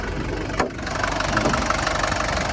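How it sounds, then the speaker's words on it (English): Diesel engine of a 1980s Mercedes-Benz 240D W123 with manual transmission idling with the air conditioner compressor running, a steady close chugging rumble with a brief click near the start and no talking. "That's the engine running."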